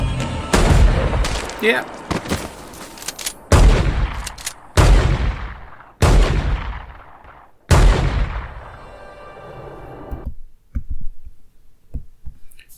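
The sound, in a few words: gunfire in a TV episode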